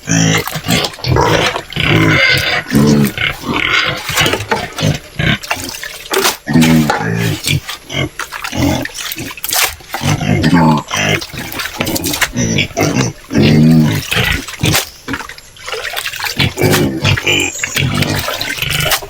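Native pigs feeding up close, with loud grunts, squeals and wet slurping and chomping in irregular bursts, continuous through the clip.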